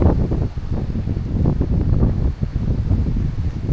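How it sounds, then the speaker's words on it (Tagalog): Strong wind buffets the microphone in continuous loud gusts on Caraballo Mountain in the Philippines during a typhoon, a rough, low roar that swells and dips without pause. "Napakalakas din ang hangin dito."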